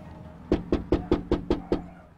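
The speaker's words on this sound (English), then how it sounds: "A knock at the door" Knuckles rapping on a door during a news reporter's doorstep visit: seven evenly spaced, firm knocks in a steady rhythm, close and clear with no talking.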